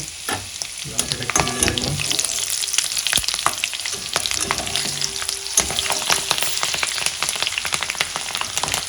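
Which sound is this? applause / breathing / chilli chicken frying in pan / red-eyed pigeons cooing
chilli chicken frying in pan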